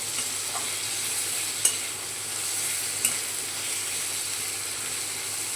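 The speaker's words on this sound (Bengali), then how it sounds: "টমেটোটা দিয়ে ভালো করে ফ্রাই করব।" Tomato sizzles steadily in a hot frying pan for paneer chatpati, a constant close frying hiss broken by two sharp clinks of a stirring utensil.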